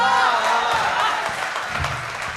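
Audience applause at a comic Hindi poetry recital in a university hall, a sustained wash of many hands clapping at steady loudness throughout.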